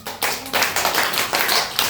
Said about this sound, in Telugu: Very good, claps.